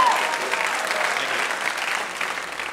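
Loud, dense applause fills a comedy show venue, many hands clapping steadily with a faint crowd murmur under it, then easing slightly toward the end.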